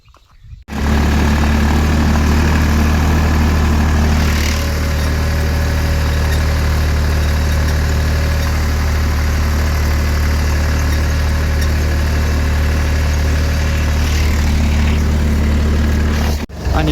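A farm tractor's engine idles steadily and loudly close by, a constant low rumbling drone with heavy vibration that holds unchanged for the whole stretch, with no talk over it.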